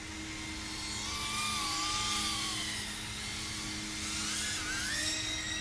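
A small EMAX Babyhawk-R Pro 2.5-inch FPV racing drone flies at full throttle outdoors over a field, a steady high-pitched motor whine with rising and falling pitch sweeps as it races, heard alone without talk.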